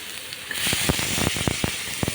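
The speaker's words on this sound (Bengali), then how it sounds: "পেঁয়াজগুলো আমি ভালোভাবে হালকা করে ভেজে নিব।" Onions frying in fish-frying oil in a kadai, a bright steady sizzle with sharp crackles and pops breaking through at irregular moments.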